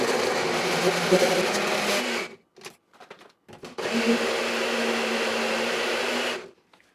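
A Goelunmy blender whirs loudly while blending a shake, running steadily for about two seconds, then pulsing in short bursts before another sustained three-second run that cuts off.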